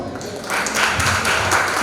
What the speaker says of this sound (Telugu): దాంతోపాటు రెండోసారి చప్పట్లు మహిళల కోసం